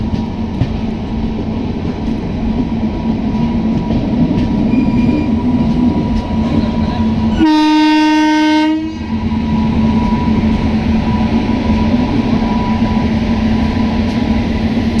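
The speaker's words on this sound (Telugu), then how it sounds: "ఆ ఫ్రైట్ ట్రైన్ వచ్చేసి తిరిగి మనల్ని ఓవర్టేక్ అయితే చేస్తుంది" A train horn blasts loudly for about a second and a half amid the steady rumble and rattle of a long freight train rolling past close by at Gooty railway station.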